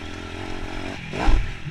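Motorcycle engine at full throttle on a track during an onboard lap, a steady loud drone that swells into a harder burst of revs near the end.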